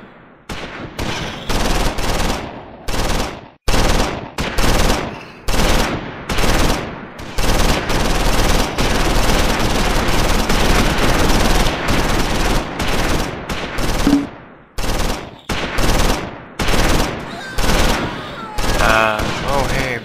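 A German machine gun in the Close Combat 5 war game fires repeated loud, rapid bursts, separated by short pauses, with the fire near-continuous through the middle.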